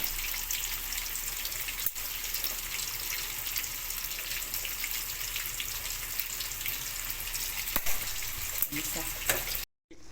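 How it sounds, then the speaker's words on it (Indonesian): Steady, dense sizzle of tofu frying in hot oil, a constant crackling hiss with occasional sharper pops, ending abruptly. "Sambil kita menggoreng tahunya, kita didihkan air."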